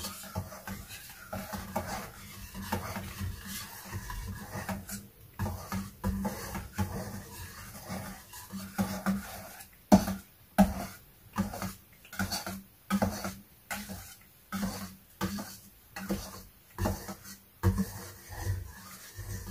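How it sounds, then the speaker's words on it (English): Soap base being mixed into a homemade mulberry body wash, heard as soft rhythmic stirring and scraping strokes in a container, fairly faint and steady, speeding into regular pulses midway. "And now I'm going to slowly add in the soap base. You add it in and you mix little by little."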